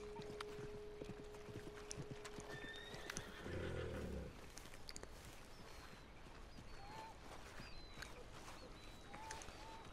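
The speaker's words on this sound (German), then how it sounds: "Wo ist mein Pferd überhaupt jetzt?" In Red Dead Redemption 2, a horse gives a brief neigh and its hooves clip-clop, heard faintly over quiet ambient game sounds with occasional bird calls.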